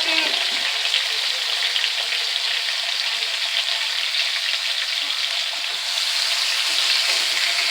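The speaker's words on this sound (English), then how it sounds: "Just add them to the oil so that we can saute them for a second." Tomato quarters sauté in hot oil, producing a loud, steady, close sizzle that hisses continuously without pause and without voices.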